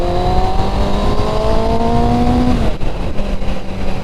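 A stock-exhausted Kawasaki Ninja ZX6R sportbike from the 2000s revs loud and close, its engine note climbing steadily before dropping off sharply, then settling into a rougher idle-like burble, with no voices.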